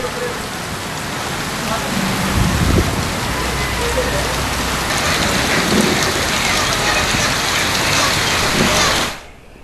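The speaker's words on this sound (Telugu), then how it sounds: "పలు ప్రాంతాల్లో వర్షం దంచుకొడుతోంది" Heavy rain from a thunderstorm lashing Hyderabad, a loud continuous roar of rain on surfaces with a low rumble of thunder partway through, before the sound cuts off abruptly near the end.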